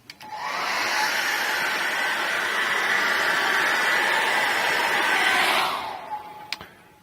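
A hair dryer blasts steadily for about five seconds to force-dry acrylic paint on a seascape painting, a loud close whoosh that switches off, followed by a couple of small clicks.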